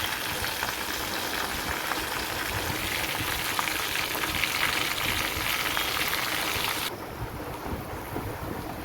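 Masala powder and curry leaves fry in hot oil for a raw mango thokku, a steady close-up sizzle that hisses evenly, then softens noticeably toward the end.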